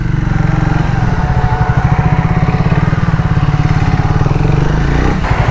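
Triumph Speed T4 motorcycle engine idling close by, a loud steady rapid thumping beat that holds evenly throughout with no talk over it.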